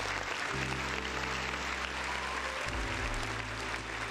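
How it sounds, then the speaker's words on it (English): An audience applauds for a birthday during a live show, a dense sustained wash of clapping, loud and steady for about four seconds with a low hum underneath. "round of applause for my boy Veggie"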